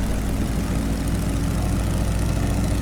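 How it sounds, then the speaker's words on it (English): A PT-17 Stearman biplane's radial engine at full throttle in Microsoft Flight Simulator, a steady, loud, droning roar with a low rumble that holds constant, no talk. "Alright, going full throttle and park and brake off."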